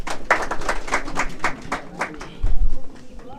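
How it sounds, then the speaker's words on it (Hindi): Students in a classroom clap for a classmate's exam result, with a short burst of distinct, fairly quick handclaps that thins out, followed by a low thump near the end. "जोरदार तालियां इसके लिए, आइए।"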